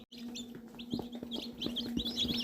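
Newly hatched chicks in a brooder, a batch of sixty-three, peep in a steady overlapping chorus of small high chirps, with a low constant hum of machinery running underneath.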